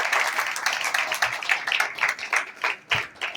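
A congregation at a Sunday church service claps in a lively, uneven burst, hands striking in quick overlapping bursts with a few louder individual claps as the sound rises and dips.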